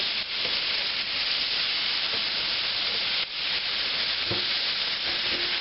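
Deer steak meat sizzles steadily in a hot pan while being stirred, a dense continuous frying hiss with occasional scrapes and clicks of the utensil against the pan, close and fairly loud, with no talking.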